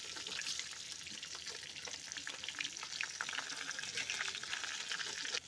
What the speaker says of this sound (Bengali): দেখো মাছটা ভাজা হয়ে গেছে